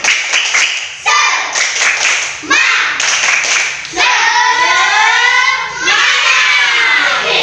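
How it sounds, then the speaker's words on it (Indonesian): A classroom group claps together in a fast, patterned rhythm, with children's voices shouting along in Indonesian between bursts; loud and close, filling the room. "Tepuk semangat."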